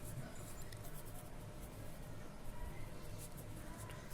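Chalk or marker scratches across a classroom board in a quiet, continuous series of strokes, faint and close with a low room hum underneath.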